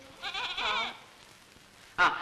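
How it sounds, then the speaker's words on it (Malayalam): A young goat kid bleats twice, a longer wavering cry followed after a pause by a short sharp one, close by in a quiet rural setting. "ചെല്ലമ്മയ്ക്ക് ഒരു ആട്ടുംകുട്ടീനെ വേണം."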